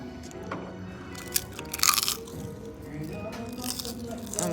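Crunchy rice cakes bitten and chewed beside a bowl of beef pho, giving a few sharp, close crunches with a louder burst in the middle, over low background murmur.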